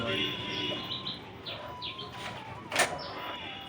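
Pigeons in a home loft give short calls and soft chirps, some rising and falling, over a low background hum, with one brief louder burst near the end.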